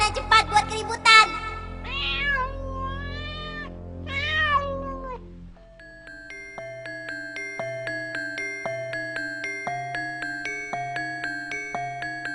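A cartoon cat in a children's animation meows several times in quick, loud, clear calls, then light plinking music takes over.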